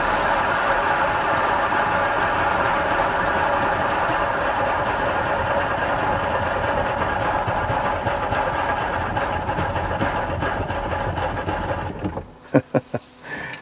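Engine idling steadily with a fast, even mechanical patter, close and fairly loud, then cutting out near the end into a few uneven sputters.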